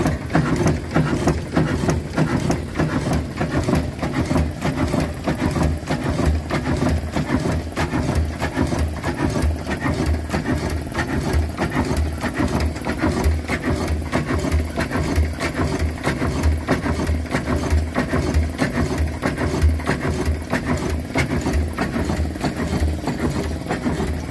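A steam engine runs at a steam rally, its camshaft turning with a fast, steady mechanical chugging and clattering rhythm that holds evenly from start to finish, close and moderately loud, with no talking.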